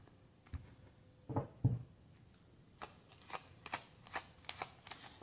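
Tarot cards being cut and shuffled at a reading, soft close riffles and flicks followed by a run of light, crisp card snaps, quiet and with no talking.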